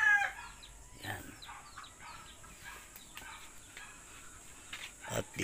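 Native chickens in a coop give soft clucks and short calls, faint and a little distant over a quiet hum, with scattered calls throughout and a slightly stronger burst at the start.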